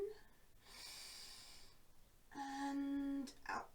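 A slow, deep inhalation through the nose during a gentle yoga routine, close and breathy, followed by a shorter nasal intake with a faint whistling tone near the end.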